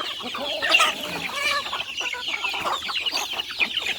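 Chickens on a small egg-laying farm cluck steadily and overlap one another, a busy, fairly close flock with no talking.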